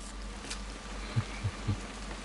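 Steady rain in the video game What Remains of Edith Finch, a soft even hiss with a few low thuds, no voices.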